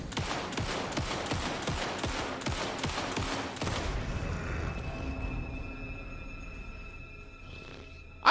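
Rapid, evenly spaced gunshots from a weapon in the horror video game Alan Wake II, loud and close, stopping about halfway through and leaving a low rumble and a ringing tone.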